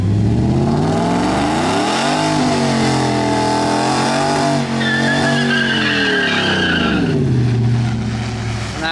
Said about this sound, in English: Nice little burnout.